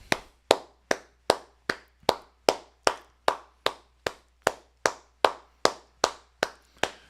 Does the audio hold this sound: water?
no